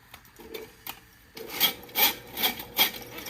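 A drain cleaner cable being turned counterclockwise and pushed back into a drain, giving scraping, rasping strokes, a few faint ones first and then four louder rhythmic rubs close by, with no talking.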